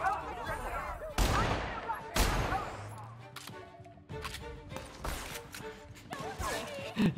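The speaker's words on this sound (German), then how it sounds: "Ich liebe diese Schüsse, die mich nicht treffen." Sharp gunshots ring out in The Outer Worlds video game, several loud cracks spaced irregularly among scattered impacts and game effects, with someone talking over the action.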